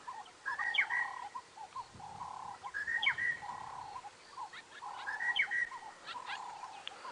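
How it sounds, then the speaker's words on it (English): Faint outdoor birdsong of larks and doves at sunrise on safari: a repeated chirping call phrase returns three times at a steady pace over soft background hiss. "I can hear the monotonous larks and all the doves now."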